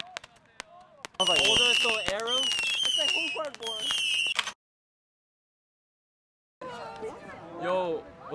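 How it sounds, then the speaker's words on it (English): Fireworks set off outdoors at a senior retreat: sharp crackling pops and whistling bursts ring out over excited chatter and voices, stop abruptly into silence, then the talk resumes. "We are shooting fireworks."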